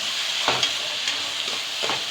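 Chopped tomatoes and onions sauté and sizzle in a pan for a goat intestine pepper fry, with a steady hiss broken by a few soft scraping stirs, close and alone.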